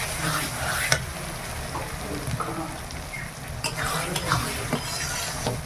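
Ginger paste dropped into hot oil with fried garlic in a pan, sizzling softly while a utensil stirs and scrapes against the metal, with a few sharp clinks along the way.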